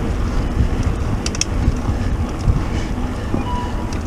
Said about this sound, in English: Wind's getting up.